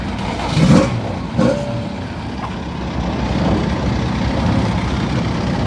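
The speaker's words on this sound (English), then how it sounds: "let's go and get these cars out on the grid for the first Mini Miglia race" Mini Miglia racing cars at Thruxton, leaving the paddock for the grid, send up a broad, steady roar of engine noise with a couple of brief louder bursts near the start.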